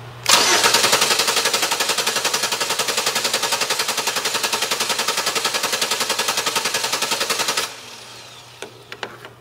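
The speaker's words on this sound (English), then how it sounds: "I'm going to take our a remote start switch, and we're going to crank this engine over for a little bit" A car engine is cranked over by its starter from a remote start switch during a starter voltage drop test. The cranking is a close, loud, rapid and even chugging that lasts about seven seconds, then stops abruptly, leaving faint clicks.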